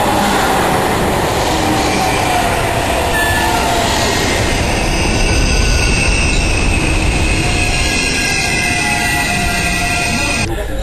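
A French TGV high-speed train rushes past close by, a loud continuous roar of wheels and rushing air with faint high squeals, steady throughout before cutting off at the end.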